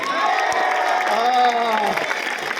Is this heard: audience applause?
yes